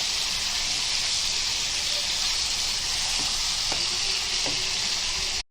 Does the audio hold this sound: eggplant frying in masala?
yes